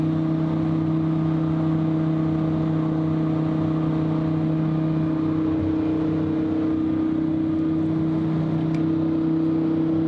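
Lamborghini Huracan STO in STO mode accelerating gently through a turn, exhaust valves closed and slowly opening: a steady, loud engine drone with a strong constant hum and slight rising tone, heard from inside the car without talk.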